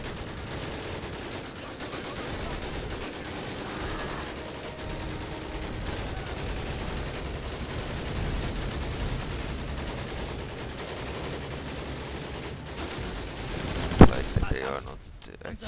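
Soldiers in Total War: 1942 fire continuously, producing a faint, steady crackle of distant gunfire with voices over it and one sharper crack near the end.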